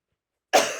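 A single sharp cough bursts in after half a second of silence, close and fairly loud, with no talking.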